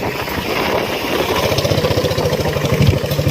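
A motorcycle engine runs close by, giving a loud, steady, throbbing putter with rapid even pulses.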